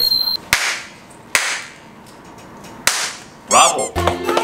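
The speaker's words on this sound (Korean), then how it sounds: "폭죽 퍼레이드를 시작하겠습니다" Firecrackers from a fireworks parade opening a game tournament: several sharp, separate cracks spaced about a second apart, followed by a brief crackling burst near the end. The bangs are loud and close, with no speech.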